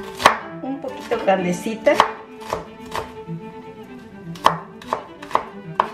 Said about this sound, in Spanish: No me gusta picarla tan chiquitita